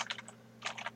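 A computer keyboard clicks out two quick clusters of keystrokes as a network switch command is entered, close and fairly quiet over a low steady electrical hum.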